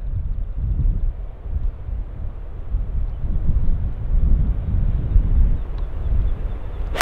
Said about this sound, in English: There's a load of wind.